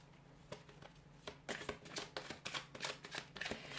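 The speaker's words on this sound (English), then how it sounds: "I'll give the cards a shuffle" Rider-Waite tarot cards are shuffled by hand, giving soft, quick riffling bursts and flicks that grow busier and denser partway through, close and quiet with no talking.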